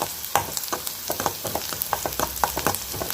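Onions sauté in a pan on a Tamil home stove, a steady close sizzle broken by frequent short scraping and stirring taps from a spatula, with no voices.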